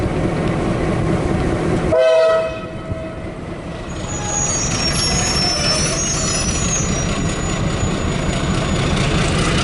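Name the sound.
train horn sounding as train enters tunnel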